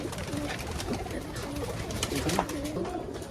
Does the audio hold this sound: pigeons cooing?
yes